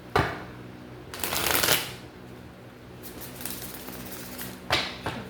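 Tarot cards shuffled by hand at a table, with three distinct bursts of riffling and flicking card noise separated by quieter gaps, close and moderately loud.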